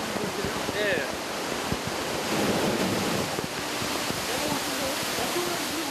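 Stored water from the upper reservoir of a water park wave pool, about 400 tonnes held behind a dam-like structure, rushes out in a steady, loud broadband roar of surging water that lasts throughout with no talk.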